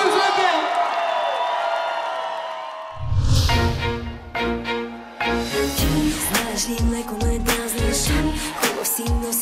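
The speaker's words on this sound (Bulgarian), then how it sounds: "Аплодисменти!" A crowd at a derby celebration bursts into loud cheering, whoops and clapping after a voice on a microphone, with music and voices continuing under the noisy, sustained roar.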